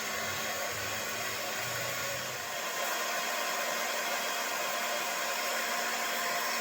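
A heat gun blows a steady, loud airflow hiss at low setting while warming the small metal clips on an old knife being restored, continuous and close.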